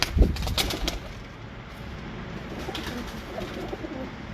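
A pigeon's soft, low cooing repeats steadily, close by, after a brief rustle and flutter at the start; no voices.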